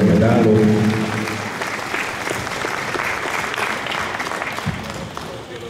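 Loud applause from an audience at a municipal anniversary ceremony in Gmina Pakosław after a commemorative medal award is announced, clapping sustained throughout, with a brief musical fanfare fading at the start.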